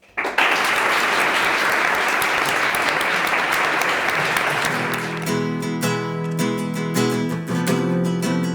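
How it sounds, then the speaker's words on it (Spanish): A strong round of applause for podcast guests at the close of a talk on the reactionary rise in Europe, loud dense clapping that carries on throughout, thinning toward individual claps near the end. "pido un fuerte aplauso para las invitadas"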